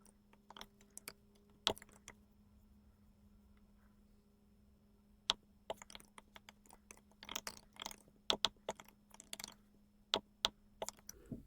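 Keystrokes on a computer keyboard while writing code for a WordPress Docker setup, sparse irregular taps early, then quicker bursts of clicking in the second half, close and fairly quiet over a low steady hum.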